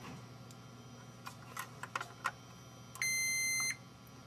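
A multimeter beeps on a continuity test of circuit board traces: one steady tone lasting under a second, following a few faint clicks of probes touching points, in a quiet room.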